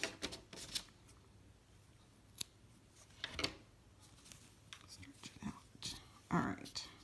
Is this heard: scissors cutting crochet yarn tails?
yes